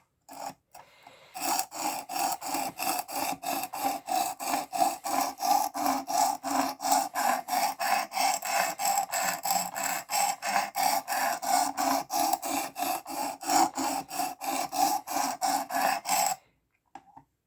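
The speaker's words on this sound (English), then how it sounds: "I'm going to try to sharpen it" A Work Sharp Precision Adjust Elite sharpener drawn across a knife blade at 320 grit, giving a rapid, even rasping rhythm of repeated strokes, close and loud, continuous for about fifteen seconds, then stopping.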